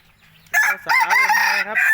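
A decoy rooster crows once, loud and close, a long harmonic call after a short quiet start.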